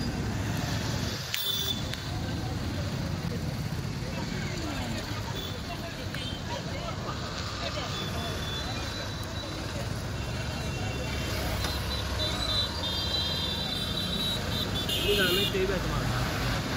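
Road traffic on a street in Ongole, with vehicles rumbling past behind a moving rider, a steady wash of engine and tyre noise with occasional horn-like tones and brief rattles, while someone talks over it.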